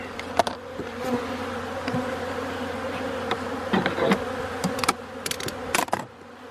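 Honey bees buzz steadily at a hive entrance as winter ends, a constant drone with sharper close fly-bys passing near and away, no talk.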